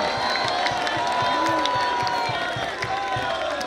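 A church congregation applauding during a sermon, a dense, steady patter of many hands clapping at a regular beat with a mixed crowd murmur and voices underneath.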